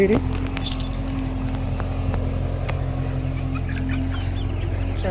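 Chickens cluck and chatter continuously at a poultry farm over a steady low engine-like hum, with a few sharp clucks standing out close by.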